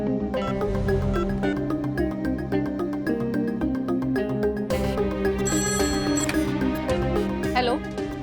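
A telephone ringtone plays continuously, a repeating electronic melody over a dense musical background, steady and fairly loud.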